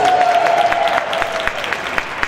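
Audience applause at a Black History Month celebration in Warren, Michigan. It sounds as a full, continuous wash of many hands clapping, with a brief voice heard over the start.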